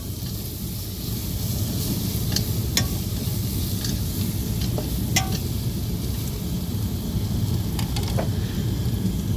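Onions and chicken masala powder fry in hot oil for an egg masala, giving a steady, dense sizzle throughout, with occasional light scrapes and clinks of a spoon stirring the pan.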